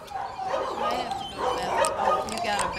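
A small, leash-shy dog on a walk lets out thin, high whimpers and a few short yips close to the microphone, mixed in with people talking nearby.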